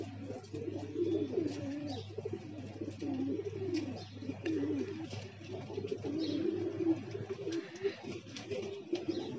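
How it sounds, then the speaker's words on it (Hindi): Pigeons coo in soft, repeated throaty phrases, close and continuous over a low steady hum, with a few faint chirps and rustles mixed in. "एक कबूतर इधर भग रहा है दूर"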